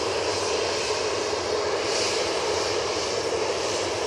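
A jet airliner taxis onto the active runway at Manchester Airport, its engines giving a steady, broad roar that holds even and fairly loud throughout with no voices.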